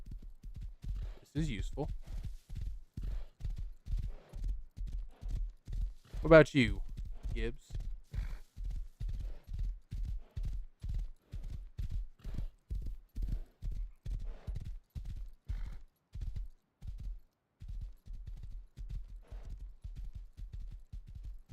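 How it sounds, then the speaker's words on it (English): Steady clip-clop of horse hooves in the survival game Rust, a regular rhythmic trot running nearly the whole time, fairly close, with someone talking over it. "I have a horse now."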